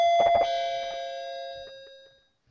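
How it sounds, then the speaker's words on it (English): A wireless doorbell rings indoors with a clear bright chime that rises and then rings out alone, fading over about two seconds into silence. "That was my doorbell"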